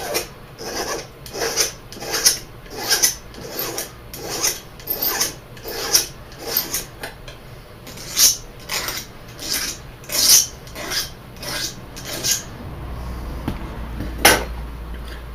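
Metal file rasping burrs off a steel arrow point, a close, steady series of short bright scraping strokes in an even rhythm, about twenty in a row, with a low rumble near the end and no voices.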